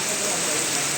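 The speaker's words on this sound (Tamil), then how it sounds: "மழை" Steady rain falls in a broadband hiss, close and constant, at a rainy waterfall spot in Eravikulam National Park.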